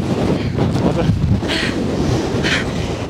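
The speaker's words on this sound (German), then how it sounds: "ich glaube, ich habe es noch nie so windig erlebt wie hier oben" Strong, gusting wind roars over the summit of Mount Etna, Sicily, a steady, loud blustering rumble across the microphone with brief hissing flurries and no break.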